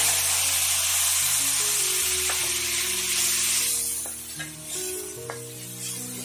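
Tomato drops into very hot oil in a kadhai set on a wood-fired stove, giving a loud, steady hiss of frying that eases slightly near the end, with a few light clinks of stirring and no talking.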